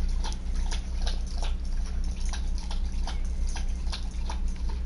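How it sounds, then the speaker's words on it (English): A female dog laps water in a steady run of quick wet tongue strokes, several per second, close to the microphone over a low constant electrical hum, with no voices. "Someone is chugging water."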